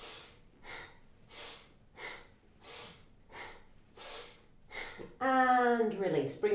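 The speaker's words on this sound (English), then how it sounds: "Sniff and throw with that breath." Kundalini yoga breathwork for the spine: a steady series of about nine forceful, rhythmic nasal sniffs and exhales at an even pace. A voice speaks over the end.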